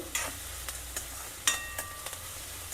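Aloo methi sabzi ingredients frying in a pan with steady sizzle, broken by several sharp scrapes and clinks of a stirring spoon against the metal, all close and without any talk.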